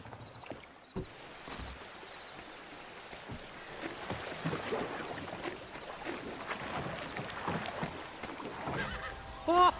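Horses in the Red Dead Redemption video game give a sharp whinny close by near the end, after a stretch of steady outdoor game ambience with soft rustling and thuds.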